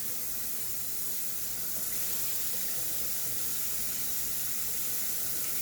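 A pan is rinsed under a running kitchen tap, producing a steady, quiet rush of water and splashing in the sink with no speech.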